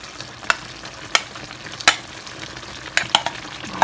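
Chicken wings stir-frying with pickled bamboo shoots in a pan, a steady low sizzle broken by sharp scraping clanks of a spatula at irregular intervals, close and alone.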